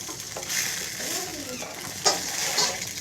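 Pieces of dough fry in a pan with a steady sizzle, broken by a few scraping stirs and a sharp utensil clink partway through.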